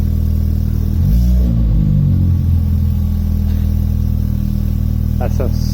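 A car fitted with a new Scorpion exhaust rumbles loudly and continuously in a car park, with a quick rev swelling early on. A brief voice is heard near the end.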